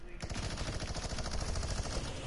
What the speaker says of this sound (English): where's the gunshots coming from?